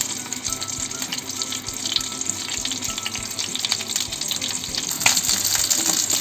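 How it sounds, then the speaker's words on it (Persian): Chicken pieces frying in hot oil for a saffron chicken dish give a steady, close, dense crackle and hiss that runs throughout without a break, with no talking. "مرغمون سرخ میشه"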